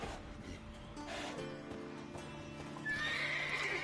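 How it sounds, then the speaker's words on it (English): Horses whinny and neigh repeatedly in a stable in The Witcher 3, over a busy background, with a shrill high whinny rising near the end and faint hoof clatter underneath. "Gotta calm all the horses before they wake the guards"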